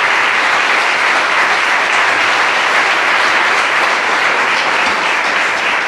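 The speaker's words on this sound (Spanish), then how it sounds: "Dale el aplauso al Señor" A church congregation applauds during a sermon at a Spanish-language evangelical service, a loud, dense and continuous wash of clapping that holds steady from start to finish with no voices above it.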